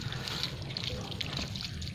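Water is poured onto a guava seedling in a polybag, a steady soft trickling and splashing that runs continuously for a couple of seconds with no talking.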